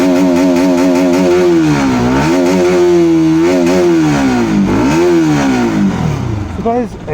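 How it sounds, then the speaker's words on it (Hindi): A 2019 Bajaj Pulsar RS 200 ABS motorcycle revs its exhaust close by, the engine note rising and falling through several deep, bassy, gruff throttle blips over a steady idle, loud throughout. "गाइस एग्जॉस्ट नोट जो है गाड़ी का बहुत ही ज़्यादा बेसी और ग्रंटियर है।"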